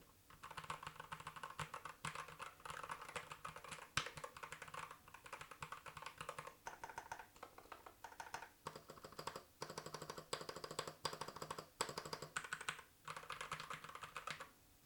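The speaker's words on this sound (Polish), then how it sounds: "Jeśli chodzi o to, jak pracują klawisze" Continuous rapid typing on a Hator Gravity TKL mechanical keyboard with ABS keycaps, clicking and clacking steadily up close with short pauses between runs of keystrokes.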